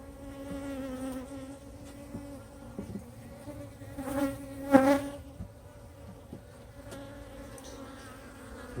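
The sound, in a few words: honeybees buzzing around a hive frame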